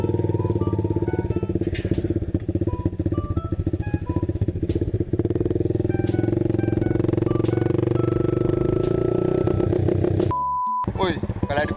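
A motorcycle engine still cold after a timing adjustment runs loudly and close, with a steady throbbing idle and a rising whine, ending with a brief beep and clatter.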